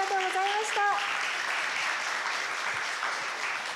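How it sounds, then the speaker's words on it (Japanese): Audience applause in a small hall after a Japanese traditional arts performance, a full, even wash of clapping that continues for several seconds before stopping. A brief tonal sound, likely a voice, shows over it at the start. "杵屋六地図先生に大きな拍手をお願いいたします。"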